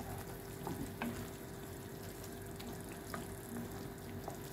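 Kohlrabi sautés in a pan with a soft, even sizzle, broken by light scattered clicks and taps, fairly quiet and close.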